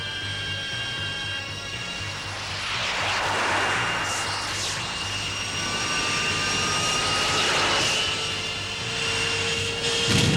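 Jet aircraft engine roaring in flight, a loud sustained whine with tonal hum that swells and recedes in passes over the whole stretch.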